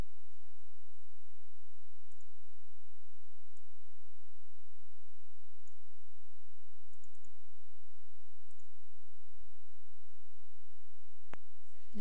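Computer mouse clicks while working in a wiki editor, a handful of small, sharp, isolated clicks scattered irregularly over a quiet, steady background hum.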